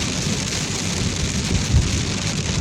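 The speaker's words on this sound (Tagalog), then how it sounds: "Maulan na umaga." Heavy rain pours steadily on a wet morning in Saudi Arabia, a loud, dense, unbroken hiss of drops with a faint low rumble beneath and no voices.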